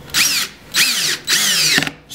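A power drill whirs in three short bursts, each spinning up and slowing as it drives a screw during dishwasher reassembly, close by with brief pauses between.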